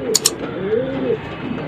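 A pigeon coos softly, a low rounded warble, with a couple of brief high chirps near the start and faint background noise.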